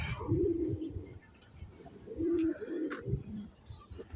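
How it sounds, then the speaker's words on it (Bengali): Caged male pigeons coo in soft, throaty bursts, several rolling calls close by with a little rustling between them. "এই যে নর খাঁচার কবুতর"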